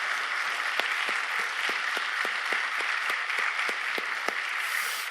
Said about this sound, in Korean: 우리 하나님께 영광의 박수 드립니다.